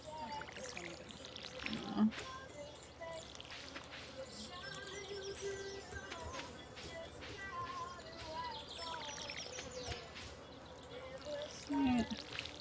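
Watering crops with a watering can in the farming game Stardew Valley, soft brief pouring splashes repeating amid gentle chirps and light game music, faint and low in level.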